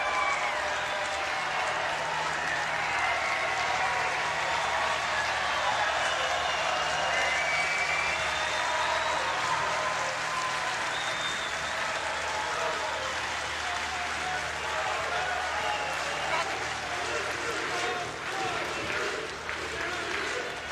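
A loud, dense crowd of Coastal Carolina fans cheers and applauds without letup at an NCAA College World Series baseball game against Arizona, with a sustained roar and scattered shouts filling the whole stretch.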